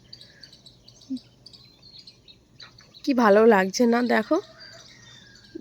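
Faint, high morning birdsong chirps and twitters in the quiet distance amid a cool breeze, then a nearby voice speaks briefly over it.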